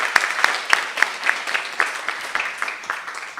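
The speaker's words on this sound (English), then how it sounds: "Give her a round of applause" Applause at a Georgia Senate study committee hearing, a sparse scattering of hand claps with several sharp, distinct slaps rising above a soft, thin ovation that fades slightly toward the end.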